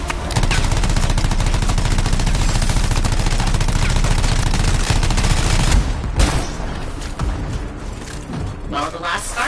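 Loud, continuous automatic gunfire from Scar turrets in the video game Anthem, rapid rattling bursts that carry for most of the clip before thinning out near the end, with voices talking briefly in the mix.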